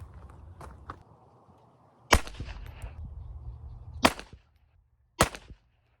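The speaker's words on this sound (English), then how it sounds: "we're going to shoot 3 rounds with the Winchesters" Three sharp gunshots from a Smith & Wesson 422 .22 LR pistol firing Winchester rounds, each a crisp crack with a short tail, spaced irregularly over a few seconds with faint background noise between.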